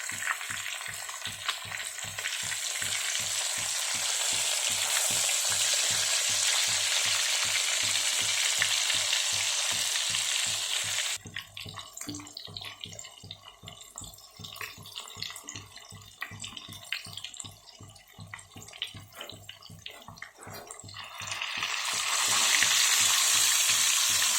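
Rohu fish fries in a pan with a steady, close sizzle and rapid rhythmic spitting that eases for a stretch and then swells louder again near the end.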